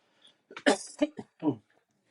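Several short, harsh coughs come in quick succession from someone close by, with brief pauses between them.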